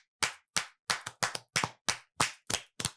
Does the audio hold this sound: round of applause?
yes